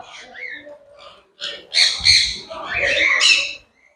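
Exotic birds in a bird park aviary at Yercaud give loud, harsh squawks close by, in several overlapping bursts with brief quieter calls between them.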